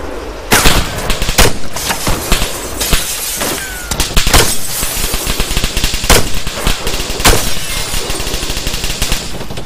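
Gunfire in ArmA 3 crackles in a dense exchange, with loud sharp shots and bursts scattered irregularly across the stretch, some close and cracking, others in rapid clusters, over a steady noisy battlefield backdrop.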